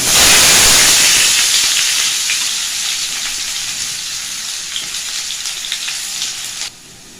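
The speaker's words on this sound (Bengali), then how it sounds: "এবার আলুগুলো ভেজে নেব।" Potatoes frying in hot oil with bay leaf, dry chilli and whole spices: a loud close sizzle that surges at first then settles into a steady crackling hiss, fading slightly before cutting down near the end, no talking.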